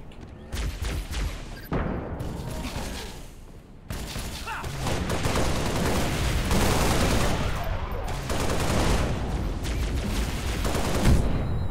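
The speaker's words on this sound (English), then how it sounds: "Oh, I just shot the wall." Gunfire in Halo: Reach, dense bursts of rapid shots and booming blasts running almost continuously, loud and close, with a brief lull partway through and someone talking intermittently underneath.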